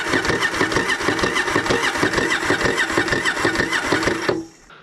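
The engine of a Yamaha XV750 motorcycle cranks on the starter without firing, a steady rapid chugging whir for over four seconds that then stops abruptly.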